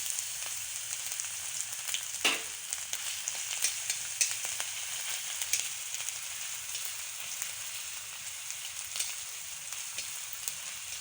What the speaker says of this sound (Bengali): ভাজা হয়ে গেছে এতে এবার আমি রসুন বাটাটা দিয়ে দেবো